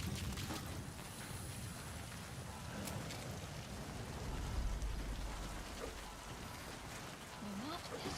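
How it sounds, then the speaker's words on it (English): Steady rainfall from the video game The First Descendant, a continuous even wash of drops on surfaces with a faint low rumble, heard alone at a moderate level without talk. "Sound of rainfall should help to mask your footsteps."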